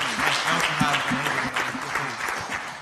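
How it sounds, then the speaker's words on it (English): Audience applause at a startup event in Estonia for a speaker named Alex, steady dense clapping throughout with some voices mixed in. "please give a round of applause for Alex as well"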